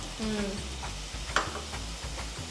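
Ginger-garlic paste and ground spices fry in oil for a mutton kidney curry, giving a steady close sizzle with soft stirring scrapes through the pan and one sharper clink partway in.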